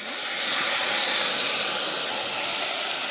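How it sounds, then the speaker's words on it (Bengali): Washed chicken hits a hot pan of fried onions for a chicken masala curry with banana stem, giving a loud, steady hiss of sizzling steam that swells early and eases slightly toward the end, with no talking. "এবার ধুয়ে রাখা চিকেন দিয়ে দেব।"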